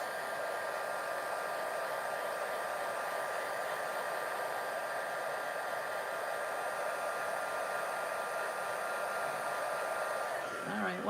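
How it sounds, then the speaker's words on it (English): A handheld heat tool blows hot air in a continuous, steady hiss and rush that holds at an even level throughout, with a brief shift at the very end. "you always want to keep your heat tool moving"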